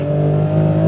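Toyota GR Corolla engine revving hard under acceleration in second gear, a loud, steady, droning tone heard from close inside the car with no talking.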